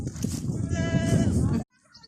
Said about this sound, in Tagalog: Tupa at saka kambing.